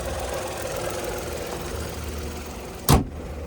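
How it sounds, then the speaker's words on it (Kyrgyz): A Kia Ray 1.0 running on gas and petrol idles in a steady, even low rumble heard up close, with a single sharp thump near the end and no talking. "Мотор сонун болуп иштеп турат достор, ашыкча үн жок"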